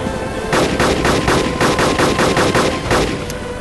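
Rapid, steady bursts of machine-gun fire from a helicopter door gunner in the survival game DayZ, loud and close, pulsing in a tight rhythm for several seconds with no talking.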